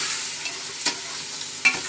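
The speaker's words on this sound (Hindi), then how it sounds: "हाँ, और इसको थोड़ा सा भूनेंगे।" Haleem ingredients roasting and being stirred in a pan, with a steady soft sizzle and two sharp scraping stirs, close up, no talk.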